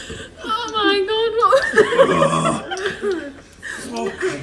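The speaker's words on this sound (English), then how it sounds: "I'm gonna burp." Burps from drinking Sprite during a burping challenge, loud and close, mixed with laughter and excited voices over a few seconds.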